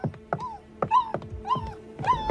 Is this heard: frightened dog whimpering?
yes